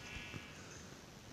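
Brown sheep in Minecraft bleating twice in quick succession, short and fairly loud over a steady background hum.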